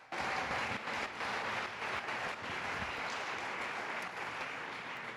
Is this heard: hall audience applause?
yes